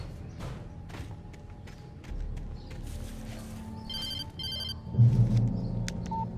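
A telephone rings in the Alan Wake Remastered game. Bursts of trilling bell tones come partway through and sit over a low ambient rumble and scattered thumps. No one speaks.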